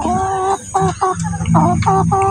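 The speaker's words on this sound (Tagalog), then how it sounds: "Tapos lumapit yung isang mabait na manok." A chicken clucks in a series of short, close, nasal bursts, about five of them in a quick, uneven rhythm against faint background noise.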